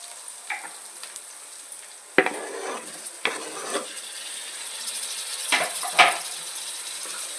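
Tomatoes go into a pan of frying onions for a Godavari-style okra and fish stew, bringing a steady close sizzle broken by several sharp scrapes and clatters of stirring, with no talk.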